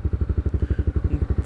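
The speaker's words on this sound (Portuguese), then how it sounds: "dar um rolezinho com a moto" A Honda CB 300R motorcycle idles or runs at low revs, its single-cylinder engine giving a fast, even, thumping pulse that sounds close and steady, with no talking over it.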